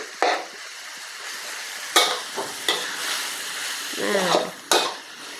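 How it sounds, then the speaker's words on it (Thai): Pork is stir-fried in a pan with shrimp paste and stink beans. A continuous sizzle is broken by a few sharp, close spatula scrapes, with a brief voice in the background. "ค่อยๆผัดไปเรื่อย ๆ แบบนี้ก่อนเลยนะ"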